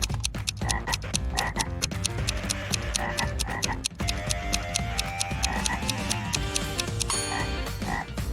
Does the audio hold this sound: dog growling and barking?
no